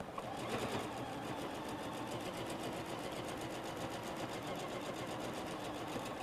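A sewing machine runs steadily as it stitches down the side of a fabric oven mitt, a continuous close mechanical whir with no pauses.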